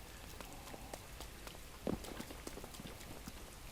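Steady rain falls in an area of the Zelda Breath of the Wild video game, a soft continuous patter with scattered droplet taps, fairly quiet throughout and with no voices.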